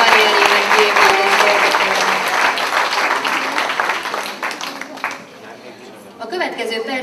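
Loud, sustained applause from a live audience at a public roundtable event, dense clapping with crowd noise filling the whole stretch before thinning out near the end.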